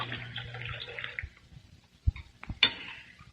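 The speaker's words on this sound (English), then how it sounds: "Now we pour out the tea and the leaves remain." Tea poured from a pot in an old-time radio drama scene, a soft, steady liquid trickle for about a second, then quiet with a few faint clinks and knocks of crockery.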